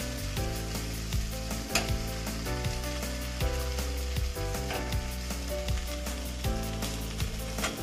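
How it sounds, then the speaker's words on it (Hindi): Raw banana bhujia fries in a pan with a steady, close hiss of sizzling oil, broken by occasional scraping stir strokes. "चलो फ्राई हो रहा है"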